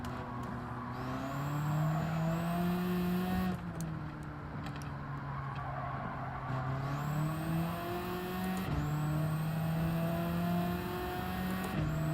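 Race car engine in Gran Turismo 7 holds a steady, loud drone with sustained high revs, dipping briefly around gear changes and lifts before climbing again, running continuously and alone without talk.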